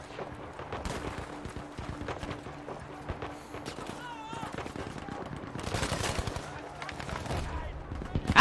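Bursts of gunfire from the World War II shooter Battlefield V: scattered single shots and rapid volleys crackle through a woodland firefight against German troops, steady at mid distance, with someone talking over them.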